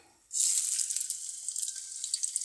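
Onion hitting hot oil while cooking polui greens, a sudden sizzle that bursts in and then crackles and spits steadily at close range with no voices.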